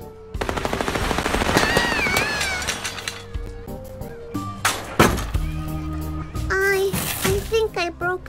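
Bursts of gunfire with real bullets ring out in the video game Little Misfortune, loud and rapid, mixed with bouncing tonal game effects and chirpy musical sounds.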